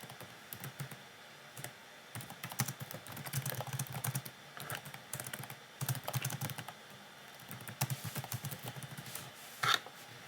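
Fingers typing on a computer keyboard in quick bursts of soft, close key clicks, pausing between runs and ending with a sharper tap, quiet and without speech.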